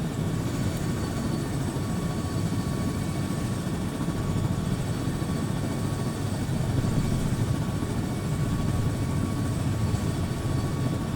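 Helicopter in the Arma 3 video game flying steadily, a continuous loud rotor and engine drone that holds even for the full stretch without talk.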